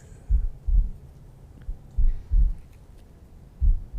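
Played recording of a heartbeat, with low thumping beats in lub-dub pairs repeating at a steady slow rhythm, heard alone with no talk.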